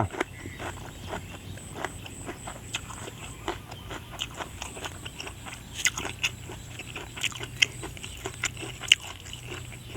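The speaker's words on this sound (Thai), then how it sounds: "เอ็นแก้วนะมันสึกกรุบกรุบดี" Close, crunchy chewing with repeated sharp crackles and bites at an uneven rhythm, over a low steady background hum.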